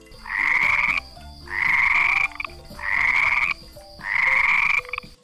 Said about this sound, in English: 4 frogs are in the swamp